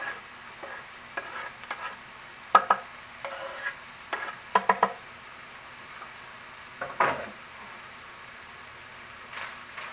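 Chopped onion, garlic and red and green peppers sizzle softly in a pan while a spoon stirs them, giving scattered scraping clicks and light clatters over a quiet, steady frying hiss.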